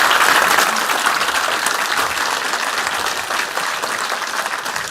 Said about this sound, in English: Please give Mike a big round of applause.